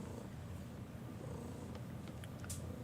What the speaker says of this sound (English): You coming in for all the ASMR sounds of Kibble the Purr and a bug zapper doing its job